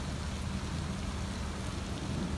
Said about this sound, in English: It's not raining too bad.